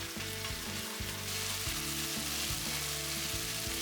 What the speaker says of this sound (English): And cook chili and garlic until they emit nice smell.